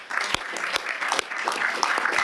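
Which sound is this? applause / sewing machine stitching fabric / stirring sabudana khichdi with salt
applause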